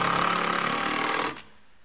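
A power driver sinks a 2-inch No. 14 screw into wood while installing an AES Raptor guardrail system gravel stop: a loud, steady buzzing whir for over a second, then it cuts off into quiet.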